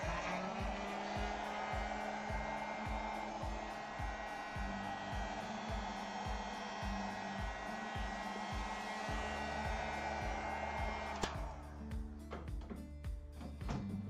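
A hair dryer runs continuously at close range with a steady whooshing roar while craft work is dried, and a faint rhythmic mechanical pulsing sits beneath it.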